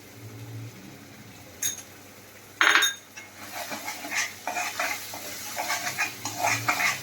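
Masala with coriander powder and salt roasts in oil in a pan, with a sharp metal clank from a spoon against the pan, then soft sizzling and repeated stirring scrapes.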